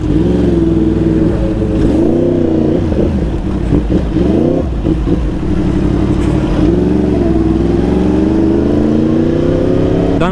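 A motorcycle engine, which is slow to start and seems to have a weak battery, is revved in neutral with repeated throttle blips. The rising and falling engine drone is loud, close and steady, and no one talks over it.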